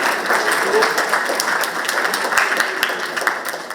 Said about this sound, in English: So I just did a loud applause from you guys